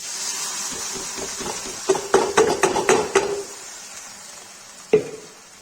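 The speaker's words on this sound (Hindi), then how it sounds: "अब इसमें डालेंगे प्यूरी, वाइट ग्रेवी वाली" White gravy puree for a Kashmiri egg curry hits a hot pan, giving a steady close sizzling hiss while a utensil taps and clatters against the pan in a quick run of knocks.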